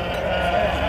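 Goats bleat at a livestock fair in Santa Cruz de Malta in the Brazilian sertão, one short, close, wavering bleat amid crowd murmur and voices.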